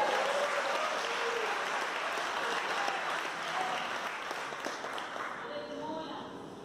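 A church congregation applauds during a Portuguese-language evangelical service, a steady mass of clapping with voices and shouts of praise mixed in, tapering slightly at the end.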